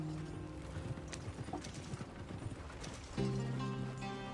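Horse hooves clip-clopping in the Red Dead video game, a quiet rhythmic trot that picks up pace, heard over soft background music with no talking.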